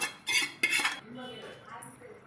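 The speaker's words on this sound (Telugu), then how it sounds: "ఇప్పుడు తీసుకున్న ఆ కొబ్బరి కూరని ముందుగా వేసుకున్న గోధుమ నూకలో మనం మిక్స్ చేసుకోవాలండి జాగ్రత్తగా" A metal spoon scrapes and clinks against a pan while stirring coconut filling into fried wheat rava, two loud bursts of scraping followed by softer, quieter stirring, close up and without voices.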